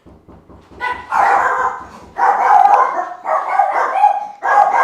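Dogs barking nearby in a rapid run of overlapping loud barks, starting with quick faint yips and then breaking into several long, strong bursts, with no talking.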